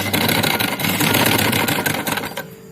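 Sewing machine running steadily as it stitches along the edge of fabric for a neckline border, a continuous close, loud mechanical whir with rapid needle ticking that stops abruptly near the end.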